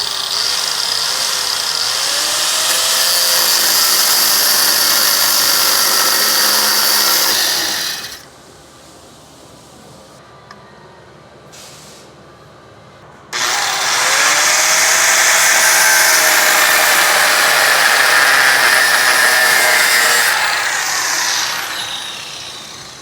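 A power cutting tool slicing metal parts for a Cadillac CTS-V angle kit, two long loud sustained high-pitched whines separated by a short quiet pause, close.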